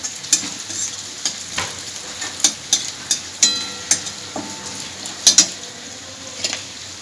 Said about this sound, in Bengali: কারি পাতাটা খুব সুন্দর করে ভেজে নিতে হবে